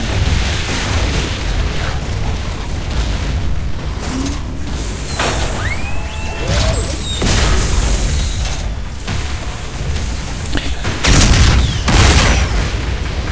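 Booming artillery blasts from siege tanks in StarCraft II: Heart of the Swarm sound over a busy battle mix of mechanical clanks and ratcheting, with a few loud, sharp impacts standing out.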